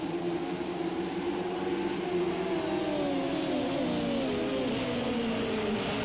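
SCL F1 race cars at Donington Park, sweeping through Goddards hairpin onto the straight, several engines droning loud and steady with rising and falling pitch as they pass, no talk over them.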